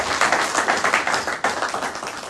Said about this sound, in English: Let's still welcome them with a clap.